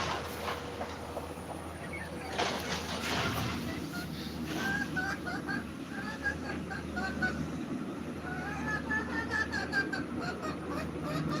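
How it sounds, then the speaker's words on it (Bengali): Chickens clucking at a rural home garden, repeated short bird calls in bursts at middle distance, fairly faint over steady background noise and occasional clatter. "কোন মুরগি গান গাচ্ছে রে"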